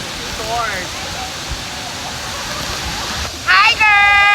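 Steady roaring rush of Tinago Falls waterfall pouring continuously, loud and close, with people's voices and a high whistle-like tone rising briefly near the end.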